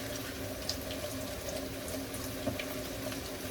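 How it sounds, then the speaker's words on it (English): Tap water runs steadily as vegetables are rinsed under a kitchen faucet, a continuous close splashing stream with no talk. "I'm just gonna rinse it."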